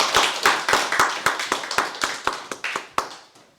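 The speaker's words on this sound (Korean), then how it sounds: "감사의 박수 한번 하겠습니다" A church congregation claps together during a Sunday service, a run of about a dozen sharp, evenly spaced hand claps that thin out and fade toward the end, with no talking.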